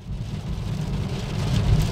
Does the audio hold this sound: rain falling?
yes